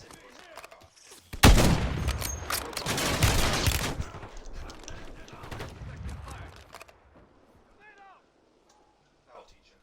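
A sniper rifle fires in a video game plunder match, one sharp loud blast followed by a dense burst of rattling gunfire for a few seconds that fades to quiet, with faint voices after.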